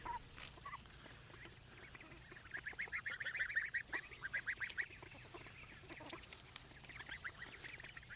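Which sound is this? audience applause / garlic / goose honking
goose honking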